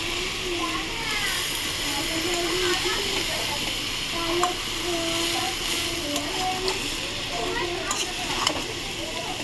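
Vinegar poured into a pan of prawn chowmein sets off a steady sizzling hiss with light stirring clatter, close by and continuous, with a voice talking over it.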